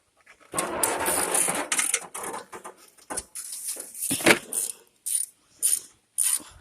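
A ratchet wrench removing the starter bolts on a tractor gives bursts of rapid clicking, close and fairly loud, broken by short pauses, with a few sharp metallic clinks near the end.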